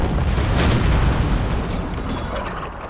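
Ship cannon fire in Empire: Total War during a pirate naval battle, heard as loud booming blasts that blur into a continuous rumbling roar.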